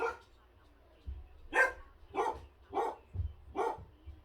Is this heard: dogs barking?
yes